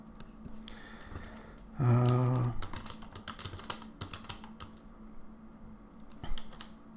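Rapid clicking of keys on a computer keyboard during an online English class, with a louder clattering burst near the start and then scattered, uneven taps under faint room noise.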